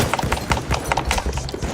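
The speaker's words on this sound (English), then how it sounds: "There, that's a horse." Rhythmic clip-clop of horse hooves in a war video game, steady galloping beats up close with a faint voice in the background.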